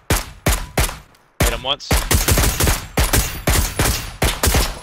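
Rapid rounds of gunfire in the battle royale game PUBG, sharp close shots in quick bursts and steady repeated cracks, with a brief pause and a short spoken line partway through.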